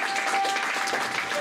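A church congregation at a Sunday service in Massy-Palaiseau applauding, a dense continuous patter of many hands clapping at steady loudness, filling the whole short moment.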